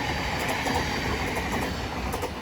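A Class 707 electric multiple unit runs through New Cross station on the South Eastern Main Line in London, giving a steady, fairly close rumble of wheels on rail with faint clatter, continuous and without a break.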